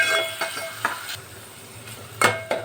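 Finely cut chillies are stirred into hot oil in a pan for a tempered dal, with a steady soft sizzle broken by several sharp spoon scrapes, close by and with no talking.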